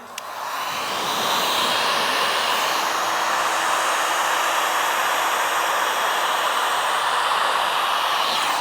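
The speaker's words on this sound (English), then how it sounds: "I'm going to take my heat gun." A heat gun blows steadily on car vinyl wrap over a fender, a loud continuous airy roar like a hair dryer that starts just after a click and holds unchanged throughout, with no voices.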